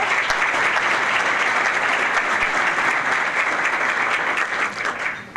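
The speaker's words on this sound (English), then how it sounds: "Big round of applause for that." Audience at a Dearborn Area Chamber of Commerce event gives a big round of applause, steady dense clapping that fills the room at even volume for several seconds and tapers slightly at the close.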